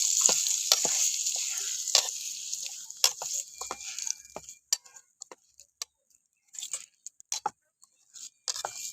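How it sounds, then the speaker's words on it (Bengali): Hot tempering is tipped into coconut chutney with a sharp sizzle that fades over a few seconds, followed by scattered spoon clicks and taps against the bowl as it is stirred in, close and without talk. "তো এবার আমি এই ফোড়নটা এর মধ্যে চাটনিটার মধ্যে ঢেলে দেবো ভালো করে একটু মিশিয়ে দেবো"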